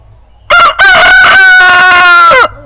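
A rooster crows loudly and close by, one full drawn-out cock-a-doodle-doo call, alone without talk.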